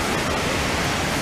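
Steady, dense broadband rush of a waterfall, continuous and fairly loud with no breaks, heard on its own without talk.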